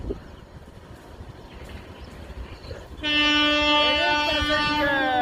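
A fast passenger train passes at Devlali station in India, its loud horn suddenly blaring for the last two seconds over steady rumbling track noise.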